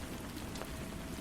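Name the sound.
rain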